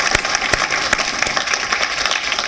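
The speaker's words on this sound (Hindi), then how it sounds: "एक बार जोरदार तालियों के साथ उनकी शायरी को आगाज दें।" An audience applauds for a poet at a poetry contest on political themes, dense steady clapping with a few sharper near claps, filling the whole stretch without any voices.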